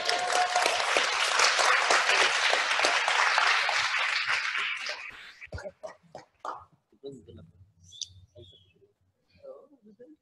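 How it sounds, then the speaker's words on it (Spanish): Audience at a supervisor training seminar bursting into loud, dense applause for about five seconds, then fading to scattered claps and quiet room noise. "Un aplauso, por favor."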